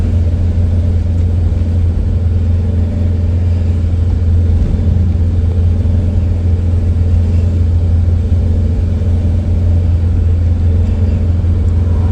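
A Sprinter van's engine labours uphill on a road trip, a loud, steady low rumble of engine and road noise running unbroken throughout with no voices.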